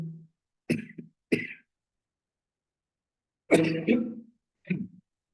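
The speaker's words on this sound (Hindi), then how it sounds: "ठंड का मौसम है, तो खांसी आंसी उठने लगी मुझे तो भाई" Coughing and throat clearing from a man during a maths lesson in cold weather: a short hack, then two sharp coughs, a pause, and a longer cluster of chesty coughs with a final clear, all close and loud with no talk.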